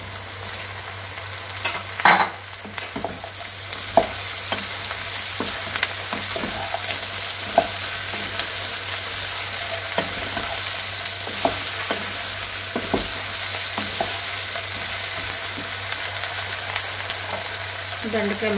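Okra pieces frying in a pan while being stirred, a steady sizzle broken by regular scraping knocks of the spoon, with a low constant hum underneath.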